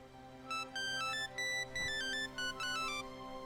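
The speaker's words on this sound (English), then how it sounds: "ringtone." In the video game Jagged Alliance 3, a phone ringtone plays a bright electronic melody in repeated short bursts of tones. It is fairly faint and heard alone over a low background hum.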